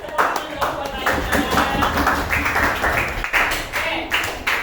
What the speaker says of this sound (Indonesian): boleh kasih tepuk tangan dong buat Aisyah